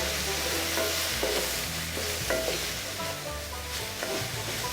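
Sliced bell peppers and onions for ground beef pepper steak sizzle in a pan over medium-high heat, a steady close frying hiss broken by occasional stirring clatter and scrapes.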